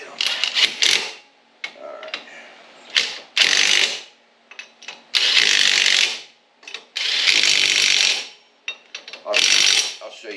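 A ratchet tightens lug nuts on an EZGO RXV golf cart wheel, giving bursts of rapid clicking and rasping interspersed with short pauses, loud and close, alone without talking.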